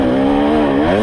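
A KTM 300 XC-W two-stroke dirt bike engine drones steadily up close while riding a trail, its pitch rising and falling slightly with the throttle the whole time, with no talking.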